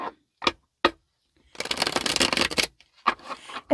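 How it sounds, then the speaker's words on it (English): A deck of tarot cards is handled and shuffled up close: a few sharp separate snaps, then a dense riffling burst for about a second, followed by more single card taps. "This is shuffle and cut number 2."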